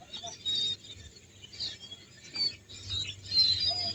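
Scattered high bird chirps and tweets from birds in a flowering tree come in short bursts over a low, steady background rumble, fairly faint and with no talking.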